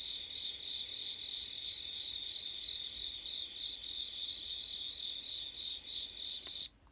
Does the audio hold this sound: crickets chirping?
yes